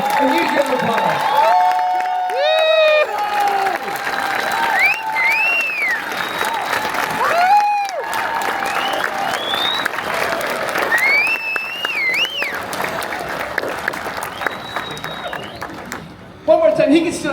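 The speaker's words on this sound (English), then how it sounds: "Everybody, please give a huge round of applause for Tom Wilson, everybody." Sustained crowd applause and scattered cheering fill a celebration of life gathering, with someone talking over the clapping through most of it, and a brief pause near the end before the applause resumes.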